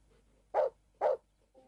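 Two sharp, close barks from a dog in the Animal Shelter video game, evenly spaced about half a second apart, followed by a faint short whine.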